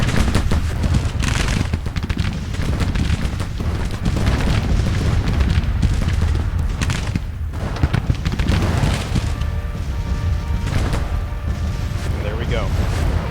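Musket volleys and artillery fire rage in a Civil War battle at Pittsburgh in the Grand Tactician strategy game, a dense, continuous roar of overlapping shots and booms with no letup.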